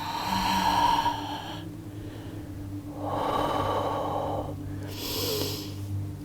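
Slow, deep breaths during a yoga class, a long exhale followed by a steady inhale and another breath, close and clear with no talking.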